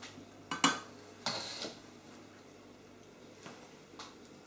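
Cutlery and a pan clinking as stir-fried vegetables are served onto a plate, a few sharp scrapes and taps spaced out over a quiet background.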